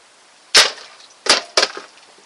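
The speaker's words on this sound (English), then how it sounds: "Now I'm going to fire at the lid" A homemade crossbow fires a bolt into a thick lid, giving three sharp, loud wooden cracks close up, one alone and then two in quick succession.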